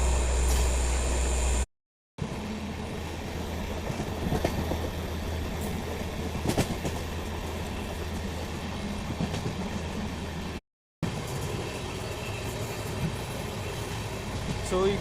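Sirpurkaghaz Nagar Intercity Express train no. 12757 running and picking up speed, with a steady broadband rumble and faint rail clatter throughout, near and fairly loud, briefly cut twice.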